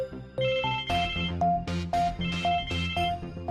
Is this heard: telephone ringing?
yes